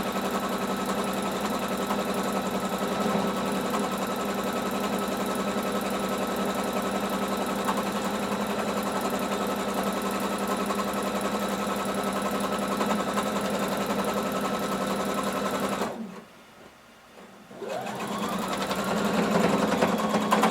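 A sewing machine stitches around a jumpsuit waistband in a steady, close, continuous whir, pausing for about a second and a half near the end before it starts up again.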